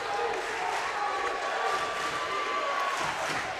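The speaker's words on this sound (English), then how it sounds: "You hear this Pottsville crowd" Pottsville high school basketball crowd cheers loudly and continuously at a 4A state tournament game against Blytheville, a dense, close roar of voices filling the gym.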